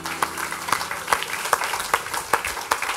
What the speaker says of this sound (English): Can we do a round of applause for Jesus?